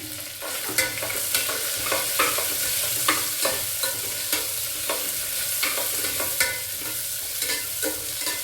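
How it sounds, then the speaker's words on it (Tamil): Steady sizzling of onions, garlic and curry leaves sautéing in a pan, with periodic scraping and stirring clicks from a utensil. "கொஞ்சம் பூண்டு, கருவேப்பிலை, ஒரு மீடியம் சைஸ் வெங்காயம் எல்லாத்தையும் போட்டு லேசாக போய் வெள்ளை வதக்கணும்னா"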